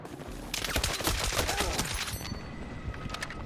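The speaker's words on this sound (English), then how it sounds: "You're literally getting shot at and you're choosing to shoot me." Rapid gunfire from a Battlefield 6 naval warfare match, with dense automatic bursts and overlapping shots filling the clip, loud and close, while a voice speaks briefly over the battle noise.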